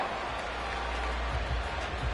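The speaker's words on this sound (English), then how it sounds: "This crowd turning up the decibel level." A stadium crowd in the Madden football video game roars in a steady, swelling wash of cheering on third and long, a broad continuous noise with no clear single voices.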